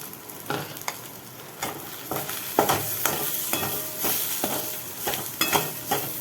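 Ivy gourd rice with sambar masala being stirred and fried in a pan, a steady close sizzle broken by repeated scraping strokes of the spoon at an irregular rhythm, with no voices.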